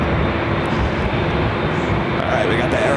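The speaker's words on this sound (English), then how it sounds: "we got the Aeromexico Dreamliner heading back to Mexico City" An Aeromexico Boeing 787-8 Dreamliner jet at LAX, bound for Mexico City, gives a steady, loud broadband roar that runs unbroken for the whole stretch.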